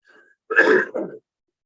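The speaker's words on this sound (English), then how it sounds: "He had a little coughing attack" A short, throaty cough burst close to the mic, two quick rough pulses lasting under a second, then silence.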